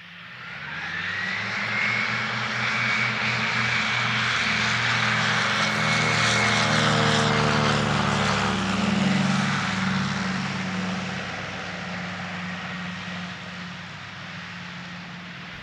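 A DC-3 propeller airliner landing, its radial-engine drone swelling loud and close with a descending whine as it rolls past, then gradually fading; no talk.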